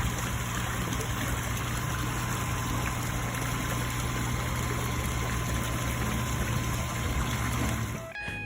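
A cheap aquarium or pond air pump runs hooked up to a pond, giving a steady mechanical hum and buzz with water trickling, cutting off at the end.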